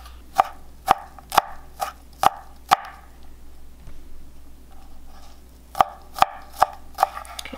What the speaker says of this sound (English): peel the garlic and chop the garlic and